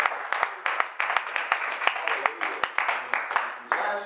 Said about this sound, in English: let's give God a nice big round of applause